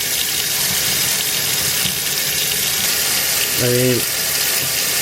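A tap runs in a loud, steady hiss of water over an mp3 player, continuous throughout, with a voice briefly heard over it near the end.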